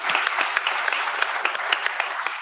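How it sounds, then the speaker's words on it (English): Audience applause at the official opening of Islandpreneur Live 2023, a business event in Sint Maarten: steady, dense clapping from a crowd, moderately loud and continuous throughout with individual sharp claps standing out. "Let's give her a big round of applause."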